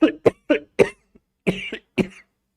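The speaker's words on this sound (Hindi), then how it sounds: "मुझे थोड़ी खांसी हो गई है।" A teacher coughing repeatedly during a lesson, about seven close, sharp coughs in two quick clusters with a short pause between them.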